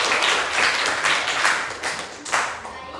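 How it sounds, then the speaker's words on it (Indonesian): A classroom group gives lively applause after a presentation, steady clapping from many hands that swells and dips for about three seconds without talk. "Tepuk tangan dulu untuk kelompok 1."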